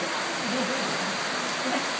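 Steady rain falls with a dense, even hiss, and a voice is faintly audible beneath it.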